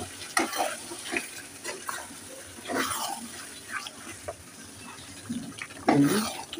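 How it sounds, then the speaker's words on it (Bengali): Chicken being stirred in a pan with a ginger, garlic, tomato and onion paste, giving soft scraping and sizzling sounds in uneven bursts, close and moderately loud, with a brief louder clatter near the end. "দেখুন আমি এটাকে নেড়ে মিশিয়ে নিচ্ছি।"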